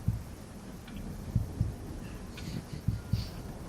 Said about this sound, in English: Except for your heartbeats, which you can hear.